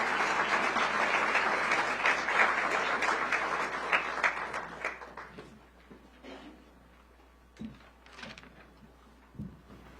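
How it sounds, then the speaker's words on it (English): Audience applause at a DC Public Schools strategic plan launch event fills the room with loud, dense clapping that gradually thins and fades, leaving a few scattered claps and faint room noise at the end. "Let's clap it up for Arisha,"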